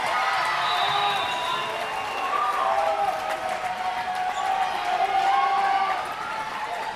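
A volleyball crowd at a state final roars and cheers after an ace serve, rising to its feet. The cheering and shouting stay loud and sustained throughout, with whistles and scattered voices in the mix.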